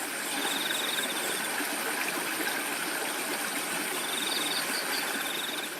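A river flows steadily in a broadband, even rush of water, with faint cricket-like chirps pulsing in the background.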